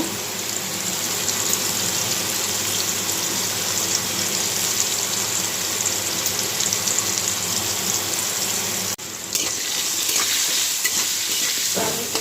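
Steady hiss of potatoes frying in hot oil, continuous and close throughout, with a brief dip near the end and faint stirring scrapes.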